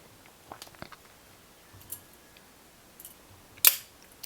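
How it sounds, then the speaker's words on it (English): The scissors on a Victorinox Pioneer X Alox USA 250 limited-edition Swiss Army knife are handled, giving a few faint, scattered clicks and small snips in a quiet room, with one sharper snap near the end. "We also have the scissors here"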